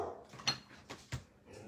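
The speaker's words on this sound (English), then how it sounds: "Excuse my dog." An indoor house dog gives a few short, muffled barks and yips in close succession, faint and somewhat distant, alone without talk.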